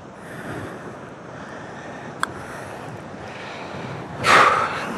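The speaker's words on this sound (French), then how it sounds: "le vent, il me saoule en fait" Wind rushes steadily across the microphone on the Villaitana golf course in Spain, with low buffeting noise, a faint click midway and a louder gust swelling near the end.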